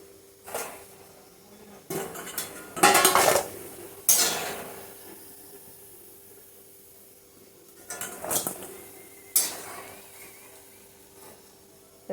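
Metal utensil clinking and scraping against a pan while fried fritters for mango malai bara are lifted out of oil, several sharp close clanks spread across a quiet background.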